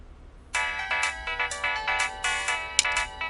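A phone ringtone for an incoming call rings out alone in a repeating melodic pattern of bright tones, starting after a short quiet pause and continuing steadily, close and clear.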